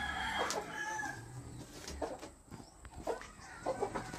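Laying hens on a poultry farm cluck and crow close by in bursts of throaty calls, over a steady background hum.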